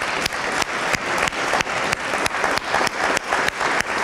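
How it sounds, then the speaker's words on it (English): Steady audience applause at an awards ceremony, honoring an event organizer; a dense wash of clapping continues throughout, punctuated by regular sharp thumps. "You need a round of applause."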